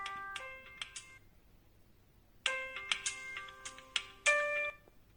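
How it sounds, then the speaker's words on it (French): A chiming electronic alarm melody from an Oppo A9 2020 smartphone plays in two bursts of bright, bell-like tones separated by a short pause, clear and close with nothing else audible. "Là, on entend l'alarme."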